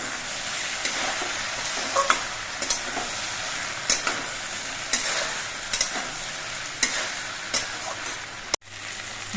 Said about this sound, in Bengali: ঢেঁড়স আর আলুগুলো একটু নেড়ে চেড়ে দিচ্ছি